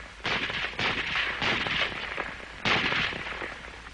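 An M1 Garand semi-automatic rifle fires four sharp shots at uneven intervals, each followed by a short ringing decay, fairly close.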